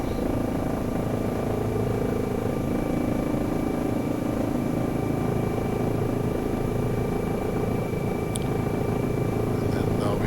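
A Eurocopter EC135 helicopter flies in the X-Plane 11 flight simulator, its turbine and rotor making a loud, steady, unbroken drone that holds an even level the whole way through.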